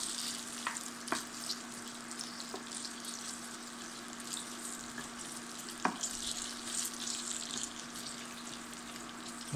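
Fettuccine is stirred with melted butter in a frying pan, giving a soft continuous sizzle with wet sloshing and a few light scrapes and clinks, fairly faint and close, with no one talking.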